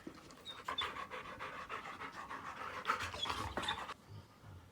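Several Labrador dogs panting steadily and close by, a continuous breathy rhythm with small bursts of louder huffing, no talk.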